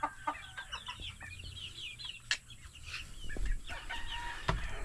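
Backyard pet chickens and chicks cluck and peep in scattered short calls, with a crow-like burst midway, fairly faint and close with rustling farmyard background.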